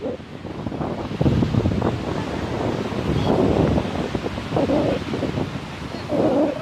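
Strong outdoor wind buffets the microphone in steady roaring gusts, loud and close, with surging swells and no clear talk.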